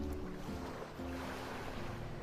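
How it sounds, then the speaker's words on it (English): Faint, soft wash of ocean waves with a low steady rumble, quiet and distant, no voices. "I hear waves!"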